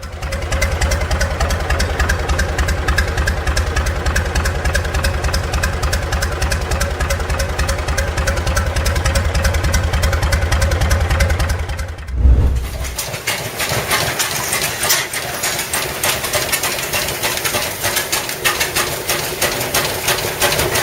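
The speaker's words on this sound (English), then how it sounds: "This unique compound engine is a semi-diesel that uses a hot bulb ignition to vaporize heavy oils." A rare hot bulb semi-diesel compound engine, burning heavy oil, runs steadily with a dense low rhythmic thump and a mechanical clatter, then shifts to a different, brighter running tone partway through.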